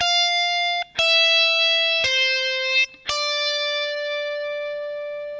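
An electric guitar plays an intro bend lick from a song. Single sustained notes are picked and bent one after another in a slow phrase with slight effects coloring, and each note rings out clearly without any talk.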